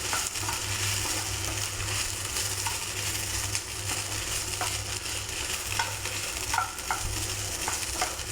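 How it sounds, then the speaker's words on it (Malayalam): Ivy gourd stir-fry sizzling steadily in a pan, a constant close frying hiss with occasional light clicks of stirring, no voices. "നല്ലൊരു കോവയ്ക്ക വിഴുക്കുവരട്ടിയാണ്."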